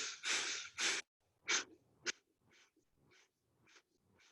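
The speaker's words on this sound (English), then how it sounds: "here we go, 35 pumps, breathing in." Rapid pumping breaths during a breathing exercise: several loud, sharp forceful exhales open the sequence, then softer quick breaths repeat in an even rhythm, close to the microphone.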